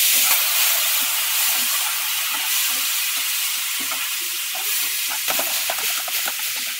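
Tomatoes sautéing in a pan for Madurai-style fish curry give a loud, continuous sizzling hiss, with scattered soft stirring scrapes and clatters near the end, and no voices.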